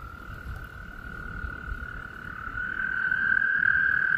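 Toads calling in a mating chorus, a steady sustained trill that grows louder and nearer over the clip, with a continuous low background hum.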